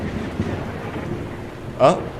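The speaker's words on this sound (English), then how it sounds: "I heard the lightning strike from outside" A lightning strike during a nighttime storm brings a low rumble of thunder under steady rain, then one sharp, brief crack near the end, heard from indoors.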